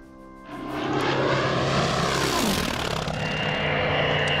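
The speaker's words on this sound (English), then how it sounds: "Time to land our airplanes," Propeller warplanes in the WWII Pacific strategy game Order of Battle: Pacific drone loudly and steadily, the engine roar swelling in the first half-second, then holding with a slight pitch sweep as an aircraft passes.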